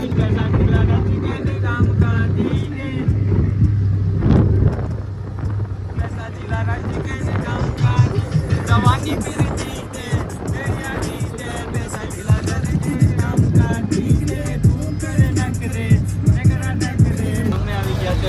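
An auto rickshaw carries a group of friends toward Veraval railway station, its engine drone and road rumble continuous beneath gusty wind buffeting and people talking throughout.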